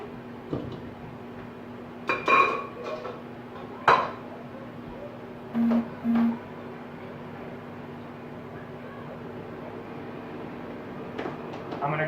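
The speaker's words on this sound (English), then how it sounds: "And now I'm going to strain out the potatoes." Boiled potatoes being strained in a home kitchen, a few scattered clinks and clatters of pots and utensils with brief knocks, fairly close and otherwise quiet.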